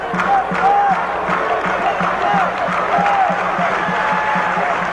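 Arena crowd at a 1980 UCLA at Washington State college basketball game keeps up a steady, loud roar and cheering from the packed student stands, with faint broadcast talk underneath.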